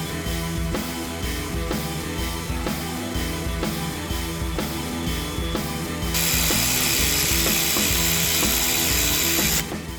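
A ratchet torquing the rod cap bolts on an LS1 V8 bottom end during a swap into a VN Holden Commodore, with steady clicking over a workshop background and a louder, brighter burst of noise near the end.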